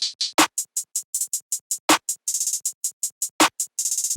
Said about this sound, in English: the finished clap pattern with the hi-hats is sounding like this.